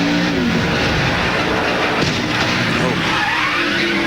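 Onboard a NASCAR Busch Series stock car in a 2001 race as it slams hard into the wall: a loud, roaring engine and rumbling impact noise with scraping, heard close.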